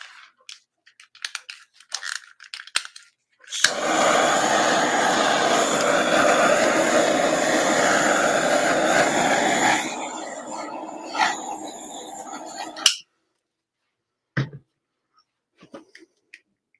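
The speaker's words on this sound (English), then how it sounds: "we'll do the heat gun" A heat gun blows steadily on resin pieces, a loud continuous rushing roar that runs for about six seconds before cutting out, followed by a few scattered clicks and knocks.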